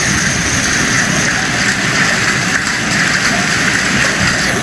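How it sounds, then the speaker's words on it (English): Hail falling outdoors during a storm, a loud, dense, continuous hiss and patter of pellets striking surfaces, steady and unbroken throughout with no voices. "You should probably stay inside as this hail comes."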